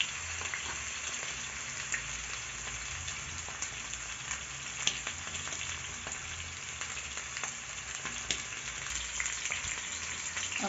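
Chicken pieces for a wet fry fry steadily in a pan, a dense, even crackling sizzle with scattered small pops that runs unbroken and close by.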